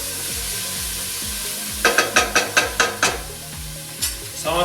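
Tortilla soup ingredients cooking in a pot, with a steady soft sizzle under repeated rhythmic scraping strokes of a spoon stirring, a quick burst of close clattering stirs in the middle.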